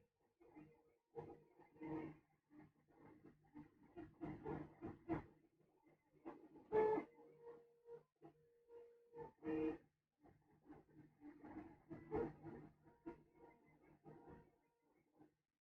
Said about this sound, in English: To hear the printer in the background, we're printing this gigantic kind of castle set